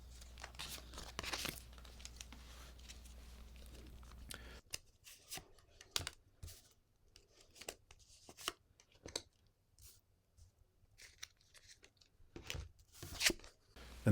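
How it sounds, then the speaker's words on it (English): Tarot-style cards are handled and picked from a deck, giving soft papery slides, flicks and crinkles in scattered short bursts, close and quiet, with no talking. "I'll pick 3 cards at random."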